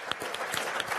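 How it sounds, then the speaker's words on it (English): Brief, faint applause ripples from an audience at a veterans and military families leadership forum, a short patch of scattered clapping heard from a distance. "I heard some applause out there"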